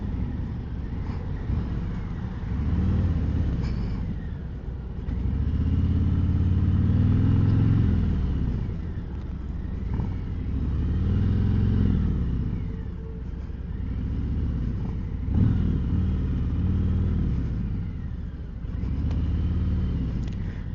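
A Harley-Davidson Road King Special motorcycle on a road ride gives a steady, close engine rumble. Its pitch rises and falls in repeated surges through each gear, alone with no voices.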